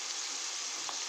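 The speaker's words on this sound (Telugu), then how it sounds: "పచ్చిమిర్చి కూడా వేసుకుందాం." Green chillies sizzle in hot oil in a frying pan, a steady, bright hiss filling the whole short moment without any talk.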